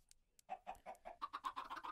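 A quick run of soft video-game chicken clucks, about a dozen rapid bursts, fairly faint and close, with no talking.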